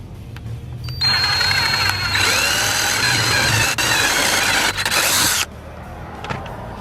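A power drill with a 1/2 inch bit bores a hole for a roof rack on a 2005 Land Rover LR3, whining loudly and steadily for about four seconds before cutting off, with low background rumble before and after.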